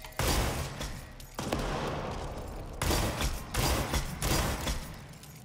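Gunfire in the action video game Control, heard as dense, loud bursts of rapid shots and blasts in several dragged-out volleys with short gaps between.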